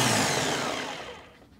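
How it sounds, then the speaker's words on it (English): A blender whirs steadily as it purées a cooked spinach mixture for palak paneer, loud and continuous at first and then slowly tapering off near the end, with no voices over it. "So now blend until smooth."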